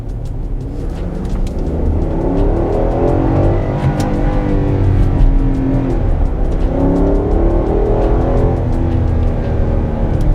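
A 2022 Nissan Patrol Platinum with its 5.6-liter engine accelerates hard in sports mode, producing a loud, continuous engine roar whose pitch climbs, dips at a gear change, then rises again.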